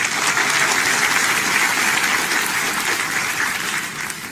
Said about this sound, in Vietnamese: xin quý vị một tràng vỗ tay thật nồng nhiệt chào đón tất cả các nghệ sĩ